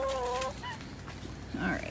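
Chickens cluck and squawk nearby in a short, busy burst, with bird calls scattered through the two seconds and a louder cluck near the end.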